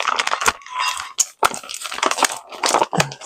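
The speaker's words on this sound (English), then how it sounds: "All this rattling on the paper." Crisp paper crinkling and rattling in irregular bursts, close up, with sharp crackles and brief pauses between handling movements.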